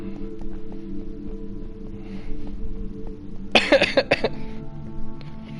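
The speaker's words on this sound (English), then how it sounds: "That was a laugh cough, by the way." A short burst of a few coughing, laugh-like huffs from one person close by, over a quiet background hum.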